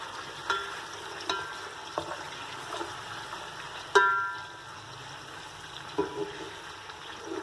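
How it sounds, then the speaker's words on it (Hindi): Food for aloo chawal fries in a pan with a soft steady sizzle, punctuated by several sharp metallic taps and clinks of a utensil against the pan, no talking. "इनको हमने तकरीबन 2 मिनट के लिए फ्राई करना है ताकि ये लाइट ब्राउन हो जाएं"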